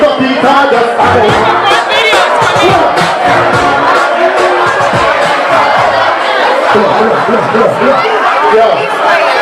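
A dense live crowd at an evening concert-style event in Ghana: loud, continuous chatter, shouts and cheering from many people close by, with no pauses.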